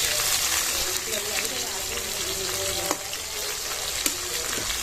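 Sliced onion fries in hot oil with chillies in a pan, a steady close sizzle and crackle with a couple of sharp pops, while a voice talks over it.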